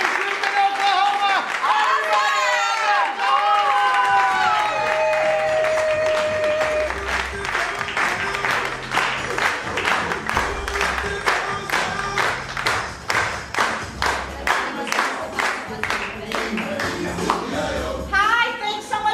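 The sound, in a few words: applause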